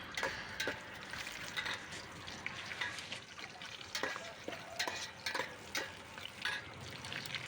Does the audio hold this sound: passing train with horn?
no